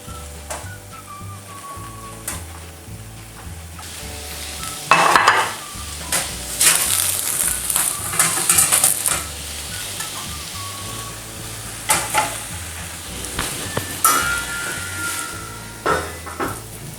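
A whole Cantonese-style perch weighing just over a catty steams for eight minutes in a small covered pot, giving a soft continuous hiss and bubbling, with louder bursts of steam and occasional metallic clatter.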